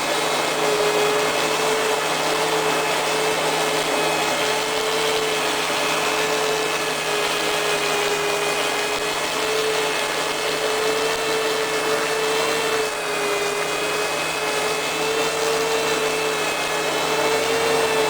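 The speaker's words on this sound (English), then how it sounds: "This should be the third and final sanding right here." A steady, loud power sander whines continuously on a forklift part, with an even hum and no breaks, running close by the whole time.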